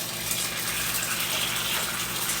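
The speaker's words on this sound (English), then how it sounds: "So I'm adding my water." Water gushing steadily from a tap into a pan for cooking eggs, a loud, close, continuous rushing fill with no break and no talking.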